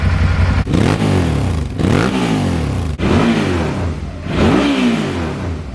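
A Suzuki V-Strom motorcycle engine warms up close by, a loud running note with four repeated rev blips that each rise and fall within a few seconds.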